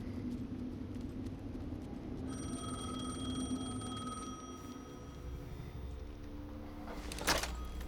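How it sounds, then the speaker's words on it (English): A telephone rings inside the Alan Wake 2 video game, a repeated steady bell tone that carries over a low, continuous ambient drone and ends with a short louder burst. "The phone again."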